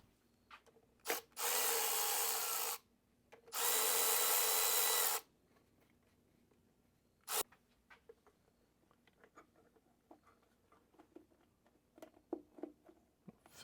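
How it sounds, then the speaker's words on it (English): Two sustained bursts from a power tool loosen the top bolts to free the filter on a 2003 Yamaha 225 four-stroke outboard, followed by a sharp click and quiet rattling. "probably gonna have to loosen up the top bolts to get it off the rest of the way"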